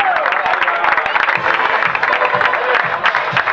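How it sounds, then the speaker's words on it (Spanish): Loud applause from a crowd at a cycling road race podium ceremony, dense clapping that carries on steadily throughout, with some cheering mixed in. "Ahí está el fuerte aplauso."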